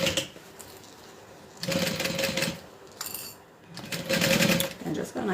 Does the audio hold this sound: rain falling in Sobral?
no